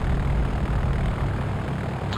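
A propeller airplane in the Flight Unlimited III flight simulator roars at full takeoff power, a loud, steady, dense engine drone with no voices.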